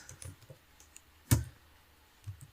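Keystrokes on a computer keyboard while an SQL insert query is typed: a few soft clicks with one louder, sharper tap near the middle, close and otherwise quiet.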